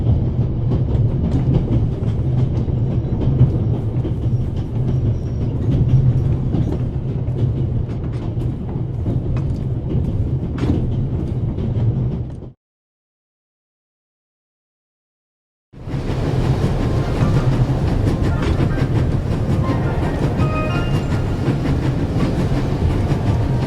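Rocking train rumble aboard the Orient Express in a video game, a loud steady rolling clatter with faint rhythmic clicks that cuts to silence for a few seconds and then resumes at the same level.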